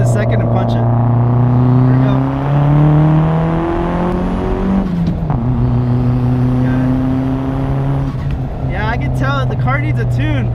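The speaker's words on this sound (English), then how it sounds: "I'm going to dump it into second and punch it." A turbocharged 1990 Toyota Camry accelerating hard in second gear, engine drone climbing steadily in pitch, dipping briefly at a shift, then rising again, loud and close from inside the car.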